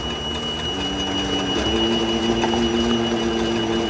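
A leather trimming machine thins leather for car upholstery with a continuous, steady mechanical whirr and hum whose pitch rises slightly partway through, running close by without talking.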